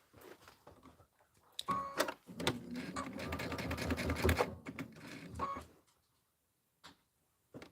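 A sewing machine stitches around a pillow with a quarter-inch seam at stitch length 2.5, a rapid mechanical whirring run of about four seconds between short starts, then quiet with a couple of faint clicks.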